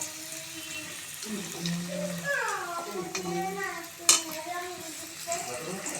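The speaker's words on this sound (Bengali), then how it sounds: "আলুগুলো তো লাল লাল করে ভাজা হয়েই গেছে। আরেকটু ভেজে নিই।" Potatoes frying in a pan are stirred at home with a spatula, giving scraping clatter and sizzle, with a sharp clink partway through and voices speaking over it.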